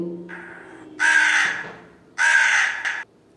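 A crow caws two loud, harsh calls close by, each about a second long, with a softer call before them and a short quiet gap in between.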